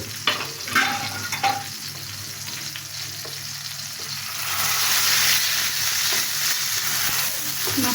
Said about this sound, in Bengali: এখানে আমার ঘিটা গরম হয়ে গেছে। এখন মাছটা আমি দিয়ে দিচ্ছি।